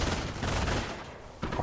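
Pak 38 anti-tank gun firing in a World War II strategy video game, amid a dense, continuous rumble of battle gunfire with a sharper blast near the end.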